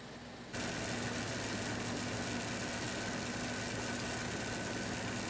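A 1994–2004 Jeep engine idles during an AC compressor replacement, a steady, low rumbling hum that starts after a brief quiet moment and holds evenly throughout, with no voices.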